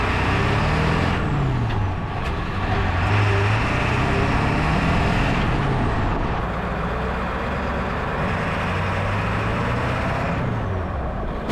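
A Ford F-350 with a 7.3 PowerStroke diesel pulls away through its first two gears, a loud steady engine drone with its pitch climbing and falling as it shifts.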